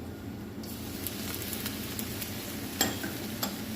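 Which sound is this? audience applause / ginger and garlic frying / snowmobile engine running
ginger and garlic frying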